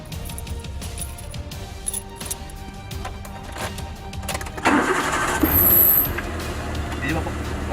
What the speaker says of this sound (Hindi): लीजिए पापा, गाड़ी को स्टार्ट।